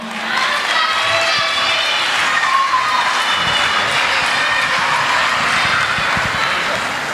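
A karaoke audience at a Christmas event in Xove cheers and claps for the singer Johnny, a steady loud crowd roar with whoops that holds for several seconds.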